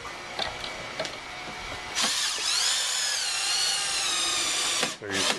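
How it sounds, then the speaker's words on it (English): A power drill drives screws into pilot holes in wood while a raised garden bench is being built. Short bursts come first, then one long steady whir that winds down near the end, close and loud. "we drilled the pilot holes, and now we're screwing down in there"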